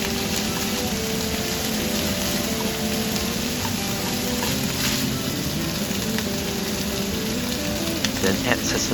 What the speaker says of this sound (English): After frying, add the shredded chicken breast.